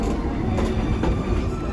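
The Tweetsie Railroad steam train runs past on an autumn day with a continuous loud rumble and rhythmic clatter of rail cars, close by, with faint puffing pulses.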